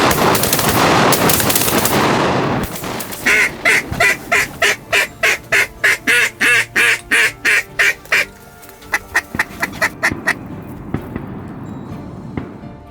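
Rapid volleys of shotgun fire from duck hunting on Reelfoot Lake, loud and close, with dense bursts of overlapping shots followed by steadier evenly spaced blasts that thin out toward the end, ducks or geese calling underneath.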